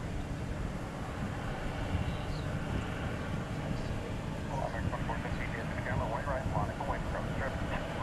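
A Boeing 737 airliner at DFW International Airport rumbles with a steady, distant engine roar, heard beneath continuous talking.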